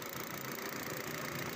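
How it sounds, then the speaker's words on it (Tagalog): A new 2023 Hyundai Stargazer's engine idles steadily during its first 1,000 km service, giving an even, close mechanical hum with no speech over it. "Ito po yung klase ng makina na Hyundai Stargazer na bagong labas."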